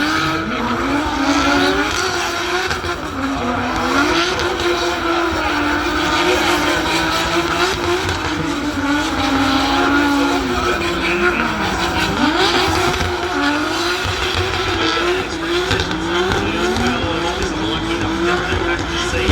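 Drift car at a drift fest, loud engine revving and wavering tire squeal sustained throughout as the car slides nearby, with commentary voices underneath.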